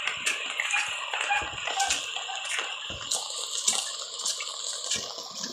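Floodwater from a typhoon rushing along toward houses, a steady running, splashing wash with scattered sharper splashes and drips throughout.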